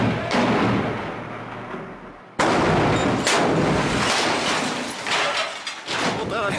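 Gunfire aimed at a tank target in Damascus: loud sharp blasts and heavy booming reports, one abrupt powerful shot followed by repeated cracks and rumbling echoes under a narrating voice.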